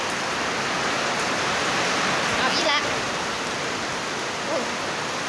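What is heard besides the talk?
rain falling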